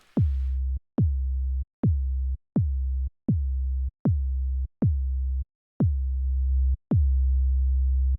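Nine deep synthesized 808 kicks made in Serum, each starting with a sharp high click that drops into a long booming sub tone, evenly spaced and loud.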